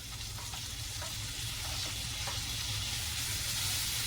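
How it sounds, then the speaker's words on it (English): Tomatoes sizzle in a hot skillet with a steady, bright crackling hiss and faint pops, continuous and close throughout. "I'm going to throw these tomatoes. Whoa! In the skillet."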